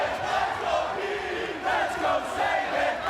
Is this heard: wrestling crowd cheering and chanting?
yes